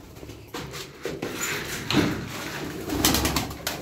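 Pigeons in a Turkish pigeon loft cooing close by, several soft throaty coos repeating over nearly four seconds, mixed with wing shuffles and scraping movement, no talking.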